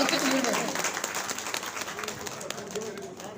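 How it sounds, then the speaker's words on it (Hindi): Applause from the crowd at a BJP honour ceremony on Makar Sankranti, a dense, steady patter of clapping that starts strong and tapers slightly, with some voices mixed in. "साहब ढाका साहब के लिए जोरदार तालियां"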